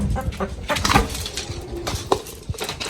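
Chickens on a rooftop clucking and shuffling while being fed, with scattered short calls and rustling, a few sharper peaks, close and moderately loud, with no talking.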